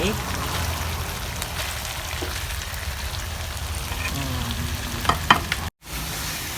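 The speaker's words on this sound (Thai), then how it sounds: "ผัดเครื่องแกง ให้หอมใช้น้ำพริกแกงเผ็ดนะครับ" Red curry paste with makrut lime leaves, young peppercorns and eel meat sizzles steadily in a pan, stirred throughout. The frying hiss is loud and continuous, with a few scraping clicks near the end.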